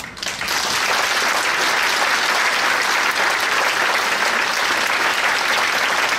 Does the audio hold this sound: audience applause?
yes